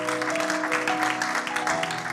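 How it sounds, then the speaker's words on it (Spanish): Church congregation claps loudly and steadily in praise, a dense wash of applause filling the room for a couple of seconds with no speech over it. "Denle ese aplauso fuerte al Señor porque Él es bueno."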